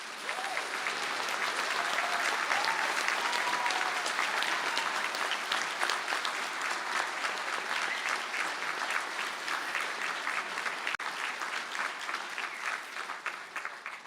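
Sustained, steady applause fills a hall as Bachelor of Business Honours graduates stand at a conferring ceremony in Galway, a dense crowd of clapping hands continuing at an even level throughout.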